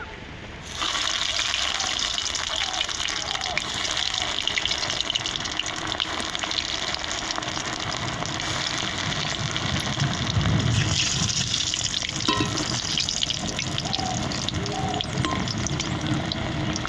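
Bread and egg snacks fry in hot oil, a dense, even crackling hiss that runs without a break after a brief quiet start, close and fairly loud, with no voices.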